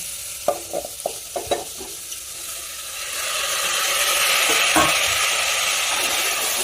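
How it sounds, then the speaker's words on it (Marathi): Washed rice and peas being stirred in a hot pan of pulav, a few scraping knocks at first, then a steady broad sizzle that swells and holds, close and alone without voices. "दोन मिनटं तांदूळ टाकल्यानंतर दोन मिनटं त्याला हलवून घेऊयात"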